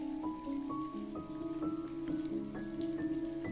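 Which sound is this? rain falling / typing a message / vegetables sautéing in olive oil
rain falling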